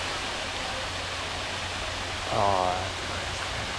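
Small waterfall pouring steadily on a hiking trail, a continuous broadband rush filling the whole clip, with a short exclamation from a person briefly heard over it.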